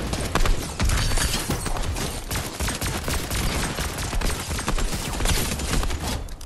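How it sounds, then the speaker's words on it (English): Dense, continuous bursts of gunfire and rapid automatic shooting aimed at the players in a video game, loud and sustained with overlapping shots and no talk. "We get shot at."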